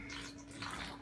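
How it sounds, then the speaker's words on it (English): Water is sucked down a pipe at the back of a large pool used before a congregation, making a steady, close, hissing rush of draining water for about a second with no voices over it. "There's a pipe that's sucking water down the back there."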